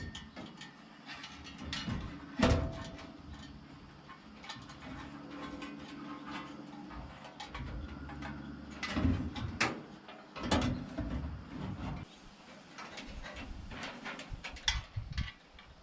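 Legs being screwed onto a Masterbuilt charcoal smoker with C screws, heard as close, repeated ratcheting clicks and metallic knocks, alternating with brief pauses and clunks over a low background.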